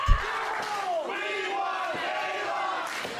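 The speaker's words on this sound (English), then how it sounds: "And the crowd chanting" Crowd at a women's wrestling match chanting in unison, a steady rhythmic roar of many voices filling the arena, with a sharp impact thud at the start.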